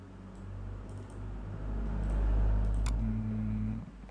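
A few sharp computer mouse clicks over a steady low electrical hum, while downloading a zip file during a MetaTrader 4 software setup; one click stands out near the end, with the others faint.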